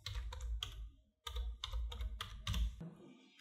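Typing on a computer keyboard during a design software session: two bursts of quick, close key clicks with a short pause between, loud and clear with no talking.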